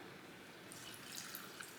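Alcohol for vanilla extract is poured into a glass jar, giving a faint, steady liquid trickle with light splashing and dripping throughout.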